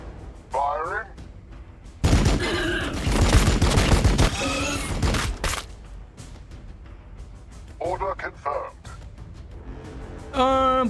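Battle gunfire in the Warhammer 40k Battlesector video game: a dense, loud fusillade of rapid shots for several seconds, with shorter scattered bursts before and after, mixed with game voices and effects.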